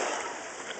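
Water splashing at a beach in a steady broadband wash, close and fairly loud for under a second, with kids' voices faintly in the background.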